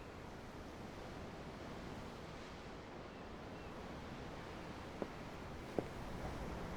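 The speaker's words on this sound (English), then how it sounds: "The ocean? Yeah. The waves." Gentle ocean waves lap in a steady, even wash of surf from the video game Tales of Arise, with two faint soft knocks near the end and no talk.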